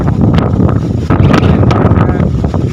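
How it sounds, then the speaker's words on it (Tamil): Strong wind buffets the microphone on a mountain road in the hills near Salem, making loud, gusty roaring bursts that fill the whole recording with no other clear sound. "சீக்கிரம் காற்று பயங்கரமாக வீசுது"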